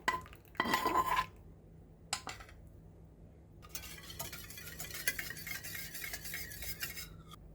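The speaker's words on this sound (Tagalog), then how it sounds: "Mix all together" Mixing melted unsalted butter into soft cinnamon roll dough with yogurt in a bowl, heard as a few brief scraping, clinking strokes, then a pause and a long steady stretch of soft rubbing and stirring noise.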